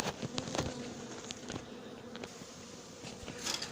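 Honey bees buzz close by around a colony lodged in a chimney in Brunoy, a dense droning hum with scattered louder passes of individual bees.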